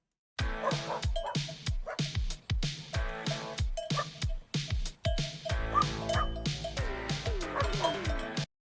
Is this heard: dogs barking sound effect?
yes